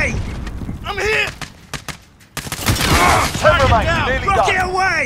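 Gunfire in Call of Duty: Modern Warfare, loud bursts of rifle and machine-gun fire crackling around a soldier who is taking hits, with a brief lull before the shooting resumes heavily. Voices shout over the battle noise.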